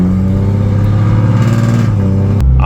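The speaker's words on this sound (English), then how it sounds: "I'm not even gonna try to talk over this car" A modified 2008 Lexus IS250 engine idles and revs close by, a loud droning rumble with a rising rev before the pitch drops back near the end.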